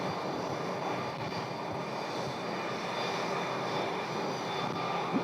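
A fixed-wing aircraft engine drones steadily at Scottsdale airport, a broad continuous roar that holds at an even level throughout with no voices.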